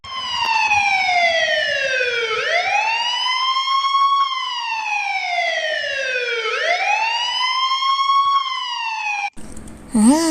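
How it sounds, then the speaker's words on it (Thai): A police siren wails loudly and steadily, rising and falling in long sweeping cycles, close by, ending with a brief different siren burst. "เสียงนี้นั่นก็คือเสียงของ รถตำรวจนั่นเองค่ะ"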